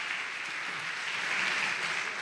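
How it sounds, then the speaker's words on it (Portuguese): Soft, distant applause from a church congregation during a weekly homily, an even patter of many hands that holds steady at low volume. "Se me entendeu, aplauda ao Senhor."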